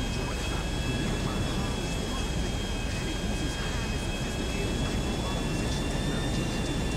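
A steady jet engine whine and roar from an aircraft in GTA 5 runs continuously without a break, loud and close, with a voice talking over it.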